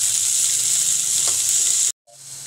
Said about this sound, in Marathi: शेंग चांगली 1 ते 2 मिनटं परतून घ्यायची आहे तेलामध्ये.